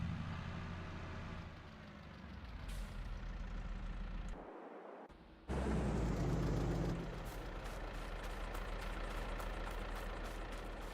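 A tractor engine in Farming Simulator 22 idles and hums at moderate volume, dropping out briefly to near silence before resuming a steady, slightly louder drone.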